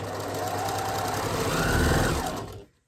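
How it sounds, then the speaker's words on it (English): Sewing machine stitching fabric on a short stitch length, a fast rhythmic mechanical whirr with tapping needle beats, running steadily for over two seconds before stopping abruptly. "Do stitch on quite a short stitch."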